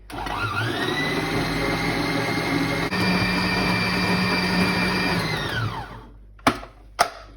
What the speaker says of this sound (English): then we're going to turn the whisk on, and then we're going to pop it down and going to mix it up until it is creamy